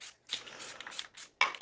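A spray paint can hisses in short repeated bursts for spray paint art, about six quick sprays separated by brief pauses, close and crisp, with no talk.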